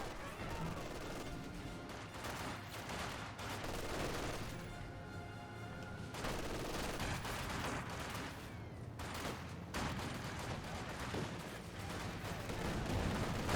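Dense battlefield gunfire from the Company of Heroes 2 real-time strategy game, with rifle volleys, machine-gun bursts and blasts layered continuously at steady loudness, while a commentator talks over the action.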